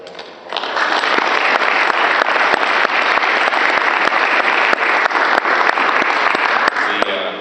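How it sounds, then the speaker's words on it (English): A crowd at a Texas food and fuel expo bursts into sustained applause after a brief quiet start, loud and steady clapping that continues to the end. "You really deserve a round of applause."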